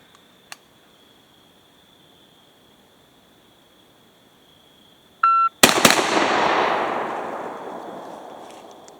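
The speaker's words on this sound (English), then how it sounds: "So here's my shot time and a double tap." A Beretta A300 Ultima Patrol semi-automatic shotgun fires a fast double tap outdoors, two sharp, loud blasts in quick succession following a shot-timer beep, then a long fading echo after a quiet lead-in.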